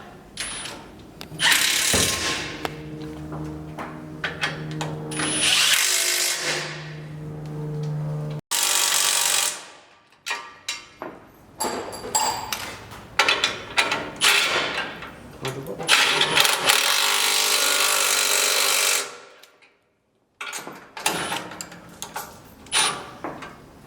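A power tool tightens bolts on a vehicle's mounting cradle in a workshop, sounding in loud bursts of whirring and rattling with short pauses between them, close to the listener, while a person talks at times.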